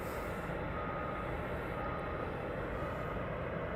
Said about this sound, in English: So that is the Star Air taxiing off.